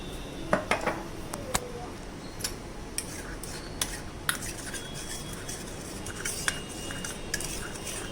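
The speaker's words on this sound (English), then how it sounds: "Now we will mix it nicely." Kala chana prasad is mixed in a metal pot, a spoon knocking and scraping against the sides in irregular clinks over a quiet kitchen background.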